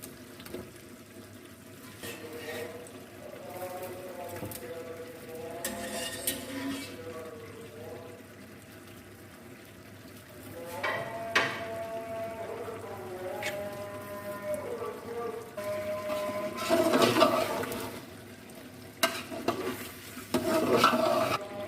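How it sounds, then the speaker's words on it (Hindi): Boiled potatoes are tipped into chicken frying in a pot for aloo chicken, followed by a soft steady sizzle, scraping stirs and some sloshing of liquid, growing busier and louder toward the end. "अभी हम बॉईल किए हुए आलू ऐड कर देते हैं चिकन में।"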